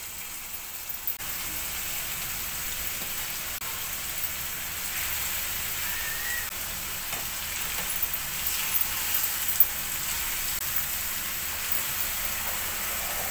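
Marinated korameenu fish pieces fry in hot oil with a soft, continuous sizzle and faint crackles, fairly quiet and steady throughout, no talking.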